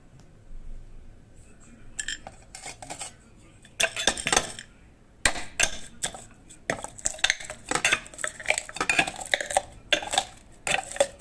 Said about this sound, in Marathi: बाकीचे शेंगदाणे मी थोडेसे बारीक करते आता